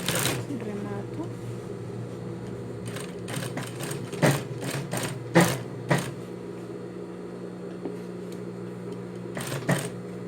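Domestic sewing machine backstitching a seam on capri trousers, a steady whirring hum running throughout with sharp clicks and bursts of mechanism noise at intervals, close and moderately loud with no talk.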